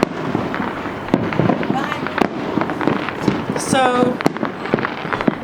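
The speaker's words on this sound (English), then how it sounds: "once a year I get to get fireworks and show them off to my neighborhood" Neighborhood fireworks pop and crackle in bursts of sharp reports, one with a brief whistling rise, close and loud under a voice talking.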